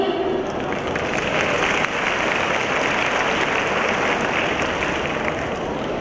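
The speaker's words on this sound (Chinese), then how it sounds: "让我们掌声欢迎" An audience claps steadily at a school graduation showcase of beauty and hairdressing students, a dense, even wash of applause lasting the whole stretch with no break.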